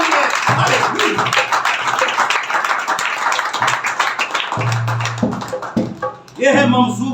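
Church congregation clapping loudly during a Hindi-Urdu sermon, a dense burst of applause mixed with shouted voices and talk throughout, swelling again near the end.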